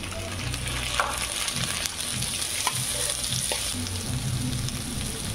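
Tomatoes dropped into a pan of frying masala oats, a continuous close sizzle with soft stirring scrapes and a few light clicks of a spoon against the pan.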